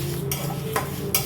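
Mustard seeds dry-roasting in a pan over a low gas flame alongside radhuni spice, stirred with three close, brisk scraping strokes spaced through a steady low background hum, with no voices.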